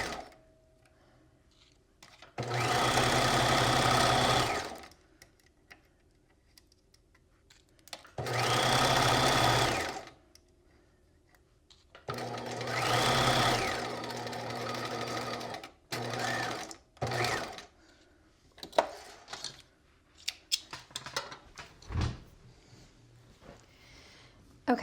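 A sewing machine stitches the tight underarm seam of a sleeve on a Sphinx top in three sustained runs, loud and close, followed by scattered clicks, fabric handling and thumps.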